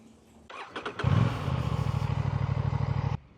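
An Aprilia Tuono 457 motorcycle engine cranks with a few clattering turns, catches, and settles into a steady, throbbing idle before shutting off.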